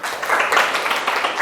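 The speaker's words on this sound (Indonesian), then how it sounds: "Oke, terima kasih, tepuk tangan" Class participants clap together in a school classroom during a differentiated-learning lesson, a steady, fairly close patter of hands lasting the full moment without talk.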